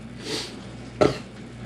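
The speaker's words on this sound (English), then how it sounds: "That's a nice grapefruit and orange burp." A single short burp after drinking Trillium Trailside IPA beer, a brief close burst standing out at about one second against a quiet indoor background.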